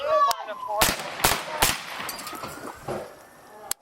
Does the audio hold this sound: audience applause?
no